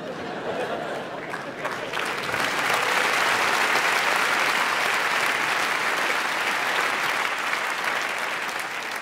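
Audience applause at a stand-up comedy show, a dense sustained clapping from a full room that swells after a couple of seconds and holds loud and steady to the end.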